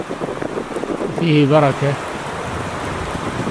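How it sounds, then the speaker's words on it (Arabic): Steady rain falls with a soft continuous patter, while someone speaks briefly over it in the middle. "لأن المطر مبارك"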